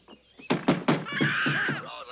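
Heavy door in a film scene struck by three loud, close thuds in quick succession, followed by a sustained ringing tone and fainter knocks underneath.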